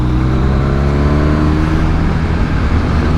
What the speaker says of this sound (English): It's quite loud actually, the exhaust.